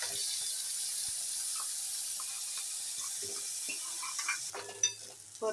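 Rice grains stirred and sautéing in hot ghee in a pan for kheer, giving a soft steady sizzle with scraping stir sounds and a few clinks near the end.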